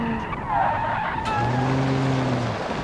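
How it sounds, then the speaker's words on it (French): The Zangzgeg Yankee Turbo slides through a mountain drift, tires squealing in long drawn-out tones that shift pitch and then settle into a steady screech, all over a constant engine drone. "À vous les joies de drift dans les montagnes."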